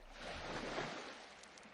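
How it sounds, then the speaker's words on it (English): Ocean waves wash softly onto a moonlit beach, a faint, steady broadband rush with no voices. "The flowing sound of the waves becomes a meditation, with every rush and retreat creating space for me to breathe more deeply"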